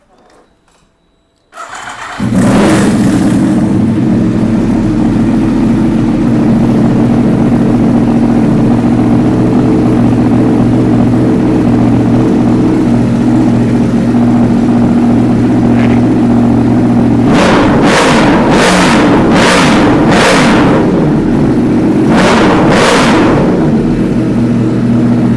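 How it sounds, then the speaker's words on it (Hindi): A superbike engine fires up after a brief silence, idles with a loud steady rumble, then is revved hard to about 5,000–6,000 rpm in several sharp bursts. "अभी ये 5-6 हज़ार आरपीएम तक रेफ करी थी मैंने"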